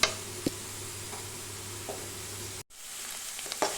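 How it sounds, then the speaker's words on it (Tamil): Onion, green chili and curry leaves sauté in a pan, giving a steady low sizzle with a few small clicks of a utensil and a brief pause partway through. "இந்த வெங்காயம் பச்சை மிளகாய் கறிவேப்பிலையெல்லாம் நல்லா வதங்கி வரட்டும்"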